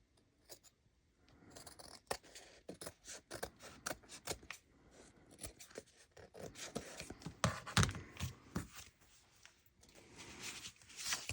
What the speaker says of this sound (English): Let me get this cut off.